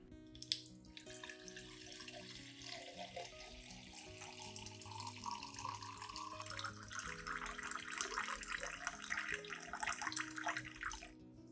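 About 500 millilitres of clean water is poured into a container for a potted plant, a soft steady splashing trickle that builds gradually, faint and close, with no talk.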